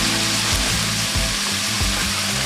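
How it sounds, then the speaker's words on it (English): Meat searing in a little hot oil in a pan for a Mexican stew, a loud, steady close sizzle with crackling throughout and no talk. "I'm gonna throw a little bit of oil in there, not a whole lot, but just enough to sear up the meat a little bit there"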